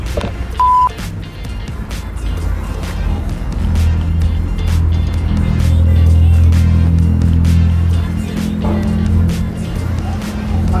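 A car arrives with an engine hum that builds to a steady rumble in the middle and then eases off. A short beep sounds near the start.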